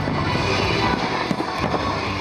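Fireworks bursting in a multimedia show, with dense overlapping crackles and pops forming a continuous loud barrage.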